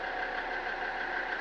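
A steady, low idle of a Land Rover Defender 90 TD5 diesel engine with a faint knocking rhythm, heard briefly and fairly quietly.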